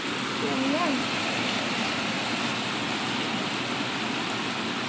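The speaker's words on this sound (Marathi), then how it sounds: "कालपासून कंटिन्युअस पाऊस आहे" Steady rain in Pune hisses continuously in the background, with a faint voice briefly audible near the start.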